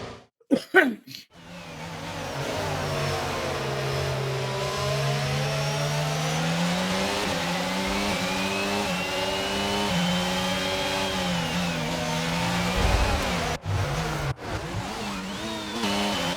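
In the F1 22 video game, a Formula 1 racing car engine drones loudly and steadily with rising and falling pitch. Sharp knocks and crashes open the stretch and break in again near the end.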